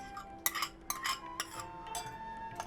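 A spoon whisks sweet yogurt in a bowl, giving a handful of quick, close metallic clinks and scrapes in an uneven rhythm against a quiet background.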